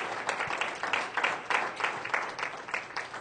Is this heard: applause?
yes